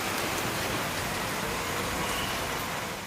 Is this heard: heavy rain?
yes